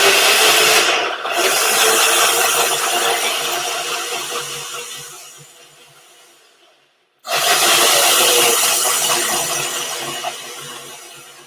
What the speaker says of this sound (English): I have to hold the blender